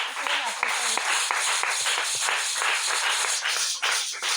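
Congregation at a church service applauding, a dense continuous wash of clapping with sharp individual claps poking through, loud and sustained throughout.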